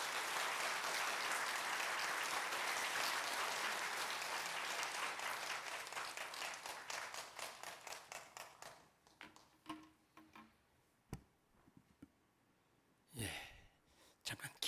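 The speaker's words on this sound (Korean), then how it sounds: "우리 선교사님 나오실 때 우리 큰 박수로 환영해 드리도록 하겠습니다" Church audience applause welcoming a missionary to the pulpit, a dense, steady clapping that thins out after about nine seconds into scattered claps, light breaths and rustles.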